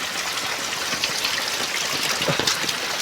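Heavy rainwater pouring and splashing into buckets, a steady, loud wash of falling water with scattered drips and no voices.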